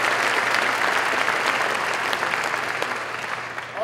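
A crowd at a baccalaureate ceremony claps loudly and steadily, a dense wash of applause that tapers slightly toward the end.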